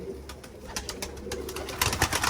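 Tumbler pigeons, a Miro cross with notably loud wings, cooing and fluttering with sharp wing claps and flapping bursts, fairly close, over a steady low background hum.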